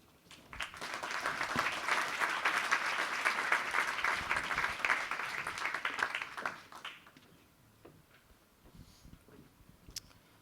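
A conference audience bursts into sustained applause at moderate distance, dense clapping holding steady for about six seconds before fading, followed by scattered murmurs and a few isolated claps.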